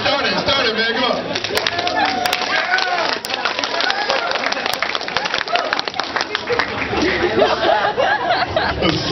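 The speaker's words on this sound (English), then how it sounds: "The slow clap. The slow clap. Start it, man." An audience at an anime voice actors' convention panel claps through the room, with scattered laughter and chatter mixed into a steady stream of hand claps under nearby talking.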